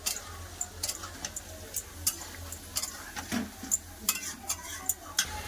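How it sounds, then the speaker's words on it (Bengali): Meat coated in ginger garlic paste is stirred in a pan with quick, light taps and scrapes in an uneven rhythm over a faint low sizzle, all close up. "মাংসটা খুব ভালো করে আদা রসুনটা মাখিয়ে ই করে নেবো কষে নেবো"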